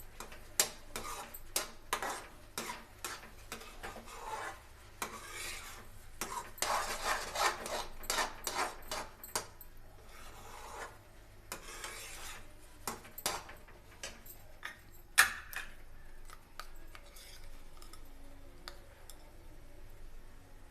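Spoon scraping and tapping through semolina halwa in a metal pan as cashews and raisins are stirred in, an irregular run of close clinks and scrapes that keeps up throughout without talk.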